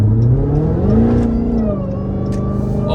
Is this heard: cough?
no